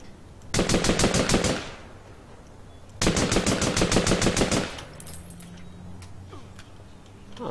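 Two loud, rapid bursts of machine gun fire in APB Reloaded, each lasting about a second or more, separated by a short pause and followed by quieter game sounds.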